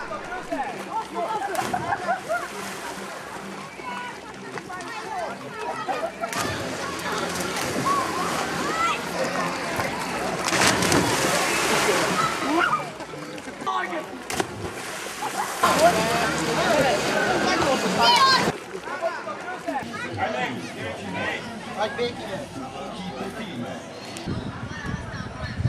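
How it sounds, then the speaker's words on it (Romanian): Outdoor mesothermal spring-fed swimming pool at about 26 degrees Celsius, busy with continuous splashing and sloshing water under lively crowd chatter, swelling louder in stretches then easing. "Strandul cu apă mezotermală are o temperatură de 26 de grade Celsius"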